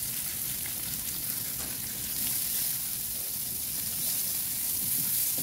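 Onions sauté in oil in a pan as a continuous, even crackling sizzle like light rain, steady and close with no speech over it.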